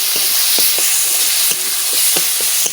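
Ground spice masala for palak paneer frying in a pan, a steady close sizzle broken by repeated scraping strokes of stirring, with no talking.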